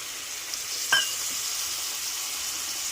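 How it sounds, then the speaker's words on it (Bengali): Sauces with capsicum and onion being mixed in a frying pan: a constant hiss of frying with a single brief spoon clink near the start, no voices. "ভালো করে এগুলোকে সঙ্গে আমি নেড়ে মিশিয়ে নেব।"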